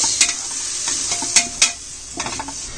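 Coriander, turmeric and biryani powder being mixed into a frying pan for egg biryani, a constant sizzle broken by sharp spatula scrapes and clinks against the metal, close and alone.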